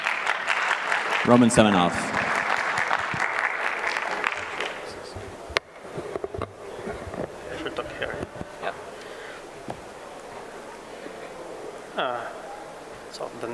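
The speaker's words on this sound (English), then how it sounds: "give him a big round of applause" A conference crowd at ETHDubai 2022 applauds a speaker from Moscow, a loud burst of clapping that fades over several seconds while a presenter speaks over it and afterward.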